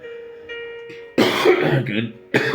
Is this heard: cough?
yes